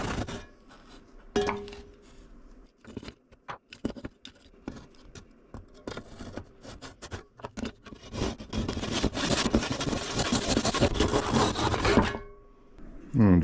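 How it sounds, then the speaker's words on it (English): Sandpaper rubbing over a trolling motor part being modified for mounting on a kayak, a rapid rasping scrape that starts in short strokes and builds into steady, loud, continuous sanding before stopping abruptly near the end. "Just hit that with some sandpaper real quick."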